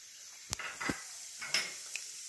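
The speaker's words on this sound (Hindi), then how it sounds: "अब इसमें हम तड़का लगा लेते हैं। ये पहले हम जीरा डालते हैं," Cumin seeds crackle and sizzle in hot oil in a wok (kadhai) for a tadka, with faint hissing and a few sharp pops and light clinks of a utensil against the pan, quiet and close.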